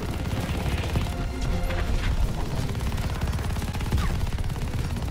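Continuous video game gunfire in a campaign shootout, dense rapid bursts and booming impacts layered loud and close throughout, with no clear pauses.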